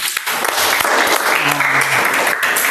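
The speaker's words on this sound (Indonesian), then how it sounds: "Tepuk tangan," Classroom applause during a teaching practice session, loud continuous clapping from a group close by, with a voice briefly heard over it.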